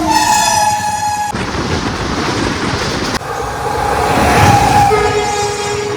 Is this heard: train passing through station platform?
yes